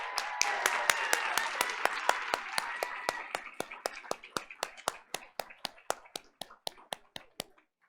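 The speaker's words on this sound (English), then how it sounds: "let's give a big round of applause as we welcome second grader Alexa Fuentes Va" Audience at a school board of education meeting clapping, a dense burst of applause that thins into a slow steady rhythm of single claps, about two or three per second, before stopping.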